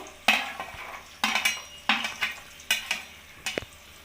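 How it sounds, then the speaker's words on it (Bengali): Spice paste frying in a kadai with green peas and raisins, heard as close bursts of sizzling and metal scraping from repeated stirring strokes, each stroke rising then fading, with no talk. "আমি কড়াইয়ের মধ্যে মশলাটা দিয়ে দিয়েছি, এর মধ্যে আমি কড়াইশুঁটি আর কিশমিশটাও দিয়ে দেবো"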